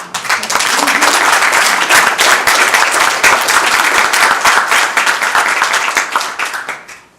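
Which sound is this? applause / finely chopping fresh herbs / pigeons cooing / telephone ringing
applause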